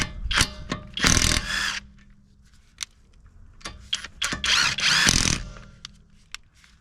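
A JTC 3304 wheel impact socket being screwed on and unscrewed, giving short bursts of close, rapid ratcheting clicks with brief quiet gaps between them.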